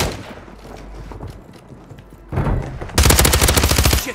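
Gunfire rings out in the video game Modern Warfare 3 Resurgence: scattered quieter shots at first, then a loud burst, then a sustained rapid automatic volley of close, sharp reports with no talk over it.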